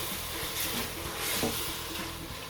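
Chicken keema masala frying in a pan with peas to come, giving a steady close sizzle and faint stirring scrapes throughout, no voices.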